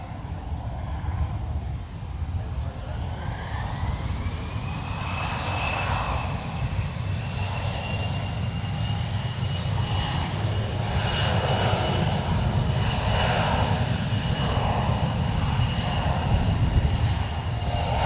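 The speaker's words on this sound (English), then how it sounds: "Now departing on runway 1 right is United Express" A United Express regional jet operated by SkyWest takes off on runway 1 right at San Francisco International Airport, its engines roaring loud and steady with a rising whine as it accelerates.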